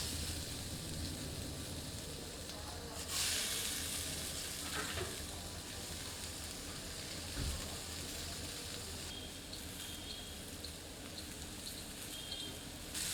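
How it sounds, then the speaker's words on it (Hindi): Skewers of paneer and vegetables roast on a grill tava, giving a steady, close sizzle and frying hiss that runs the whole time. There are a few brief louder crackles and no talk. "अब पनीर तथा सब्जियों से भरी सीकें ग्रिल तवे में रखकर भूनते हैं।"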